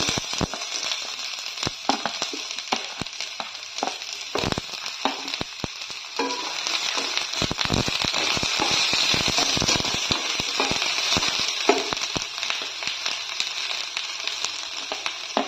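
Onions sizzle and crackle in hot oil, a dense steady frying hiss punctuated by sharp pops and occasional stirring scrapes.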